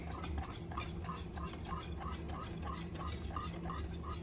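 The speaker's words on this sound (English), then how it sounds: "Turn down your heat and keep stirring, guys." Cornmeal porridge being stirred in a pot with a spoon, an even, rhythmic scraping repeating about twice a second, close and steady, with no voices.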